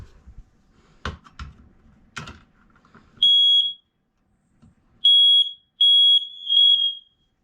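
A household smoke alarm being tested gives several loud, piercing electronic beeps: one long tone, a pause, then a run of three or four close bursts. Earlier there are a few faint knocks and clicks, and nobody speaks.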